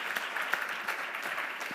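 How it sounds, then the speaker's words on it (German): Brief, fairly distant applause from a church audience, many hands clapping in a steady patter for under two seconds with no voices over it. "Geben wir Ihnen doch einen großen Applaus."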